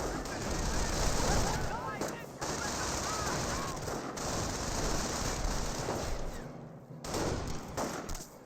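Rifleman squad gunfire in Company of Heroes, sustained crackling volleys and bursts of rifle and machine-gun fire with brief lulls, under someone speaking.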